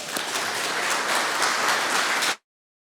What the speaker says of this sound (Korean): 우리 박수하면서 선생님 모시겠습니다.